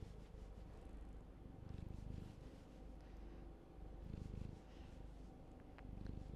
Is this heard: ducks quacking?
no